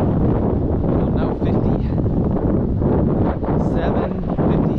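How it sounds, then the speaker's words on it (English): Strong wind buffets the microphone outdoors on a sunny, chilly day during a walk, a loud continuous rumble with gusty swells that dominates throughout. "Really windy"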